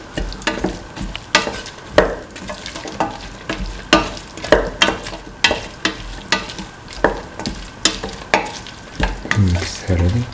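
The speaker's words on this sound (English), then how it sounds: "Keep on mixing." Cauliflower pieces are stirred in a sizzling pan, a spoon scraping and knocking in a steady rhythm of roughly two strokes per second over continuous frying hiss, close and loud with no speech.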